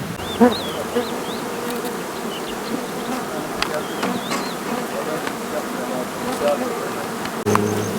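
Honey bees, a breeding stock brought from Ukraine, buzz at an apiary run by a honey-producing family in İdil. Their dense, continuous hum fills the scene, with individual bees droning past close by and faint voices in the background.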